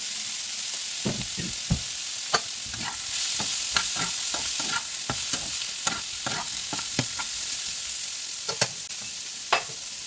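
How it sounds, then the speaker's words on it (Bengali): Pumpkin fries with black cumin and turmeric in a little oil, producing a soft, continuous sizzle close by, punctuated by repeated irregular scrapes and taps of a spatula stirring the pan. "কম তেল দিয়েছি এখন হচ্ছে কুমড়াটা দিয়ে দিচ্ছি একটু হলুদ"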